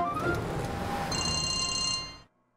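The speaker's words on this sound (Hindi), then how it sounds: "जीविका को फोन करो पता करो कहां तक पहुंची है" A telephone rings with a bright, repeating electronic trill over a low background hum, then cuts off abruptly near the end.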